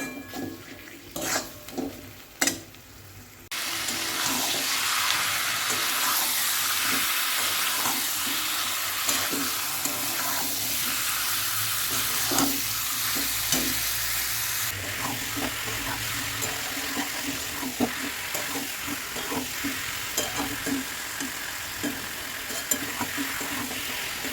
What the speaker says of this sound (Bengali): দেখো লবণ আর হলুদটাকে দিয়ে দিয়েছি এবার দুই থেকে তিন মিনিট ভালো করে কষিয়ে তারপরে চিকেনটা দেবো